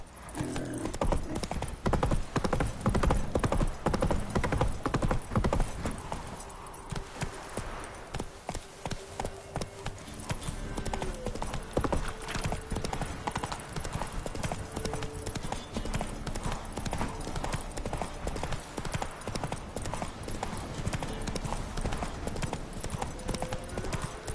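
Roach, the horse in The Witcher 3 on PS5, gallops with rapid, continuous clip-clop hoofbeats, loud and near throughout, with a brief whinny and game sounds mixed in.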